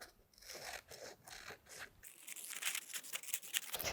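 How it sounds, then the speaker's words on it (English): Paper scissors cutting along the lines of printed paper templates for quilt wedges, a run of short crisp snips and scraping rustles, close and fairly quiet, growing busier toward the end, with no talk. "carefully cut out along the lines using your paper scissors"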